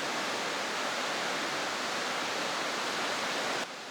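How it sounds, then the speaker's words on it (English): A river with heavy rapids rushes behind a campsite on the road to Tuktoyaktuk, Alaska, a loud, unbroken roar of white water that drops slightly in level near the end. "Listen to the sound of this incredible river running behind me."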